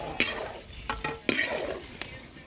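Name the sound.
chicken frying in a pan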